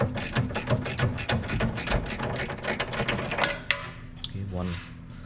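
A bolt is worked loose from the rear sway bar of a 2010 Honda with a ratchet, giving a rapid run of clicking strokes that stops with a sharp metallic clink, followed by a faint clatter.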